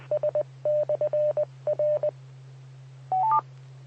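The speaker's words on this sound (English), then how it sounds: "I gotta make a phone call." Close, clear telephone keypad tones dialing a number in quick bursts of beeps with short pauses, ending in a rising run of three tones, over a steady low electrical hum, with no talking.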